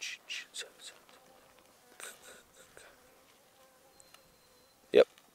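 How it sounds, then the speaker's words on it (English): Flies and bees buzzing outdoors at a lake, several short faint buzzes passing close in a quiet setting, ending with one louder, nearer buzz. "Lots and lots and lots of bees and flies."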